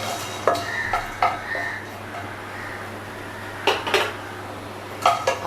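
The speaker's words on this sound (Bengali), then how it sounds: "এগুলোকে আমি একে একে শুকনো কড়াইটার মধ্যে দিয়ে দিচ্ছি" Whole spices such as black peppercorns tipped one after another into a dry kadai, giving sharp clattering scrapes and rattles against the metal in separate bursts over a quiet background hum.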